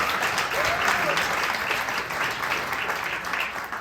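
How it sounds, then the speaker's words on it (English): A festival audience at a storytelling event in Nebraska applauds steadily and loudly for nearly four seconds, a dense wash of clapping that holds even throughout. "so can we please give them a round of applause?"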